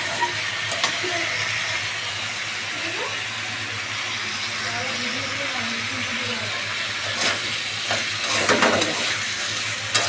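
Potato and pointed gourd fry in a pan, giving a steady close sizzle with occasional stirring scrapes and a few louder clatters toward the end.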